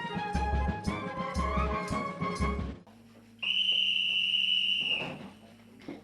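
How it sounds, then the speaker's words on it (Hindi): A loud, sustained army whistle blast signalling the 10 pm bedtime, holding steady for about two seconds before cutting off, preceded by a rhythmic band-like musical passage. "ठीक 10 बजे की सीटी ऐलान करती है सोने के वक्त का।"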